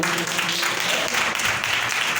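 Loud applause fills a church gathering, dense clapping from the congregation that continues without a break.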